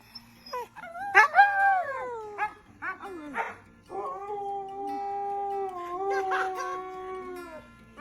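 A husky whimpers and whines in soft, trembling, drawn-out cries, close and alone, rising and falling in several wavering bursts with short pauses between.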